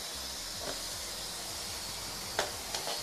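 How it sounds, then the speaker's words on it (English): Black and Decker steam mop releasing steam over a stone marble floor: a steady, soft hiss runs throughout, with a low mechanical hum underneath and a couple of brief louder spurts near the end. "You can see the steam coming out as well."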